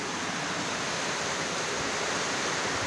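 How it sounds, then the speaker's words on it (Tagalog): Floodwater rushes during a typhoon in La Union, a steady loud broadband roar of churning water filling the whole clip with no voices. "Grabe, baha. Baha guys, baha."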